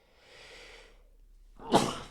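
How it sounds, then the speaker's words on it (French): One sharp sneeze follows a soft drawn-in breath and a short pause; the burst is loud and close, heard alone. "Excusez-moi, je m'éternue parce qu'ici on n'a pas de soleil."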